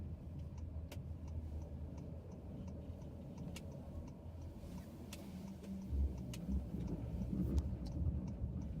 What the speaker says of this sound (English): So let me just park the car.